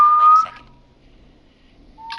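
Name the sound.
whistling in the video game Killer Frequency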